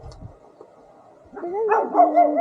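A dog on a Peruvian mountain barks and yelps loudly and close after a quiet stretch, a short burst of strained, whining barks.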